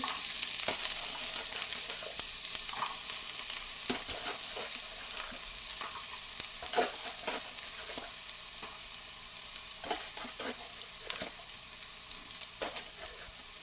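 Chopped garlic and dried chilies fry in oil for red amaranth greens, a soft continuous sizzle punctuated by scraping stirs of a spatula against the pan, steady and unhurried without speech.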